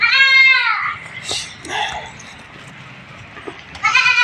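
Goats on a goat farm bleat loudly and close by, one long harmonic bleat at the start and another at the end, with quieter shuffling and faint voices in between.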